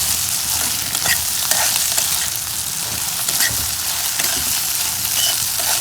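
Cauliflower and egg fry being stirred in a hot pan: loud, dense, continuous sizzling close up, with intermittent scraping and clatter of the spoon against the pan, no voices.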